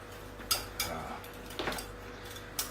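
A utensil stirs a spicy capsicum dish in a pan, making a few sharp metallic clinks and scrapes spaced irregularly over a quiet background, close by with no talk.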